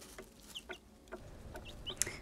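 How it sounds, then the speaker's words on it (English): Light Brahma chickens cluck softly, giving a handful of short, scattered calls that stay faint and distant over a quiet background. "So here are our chickens."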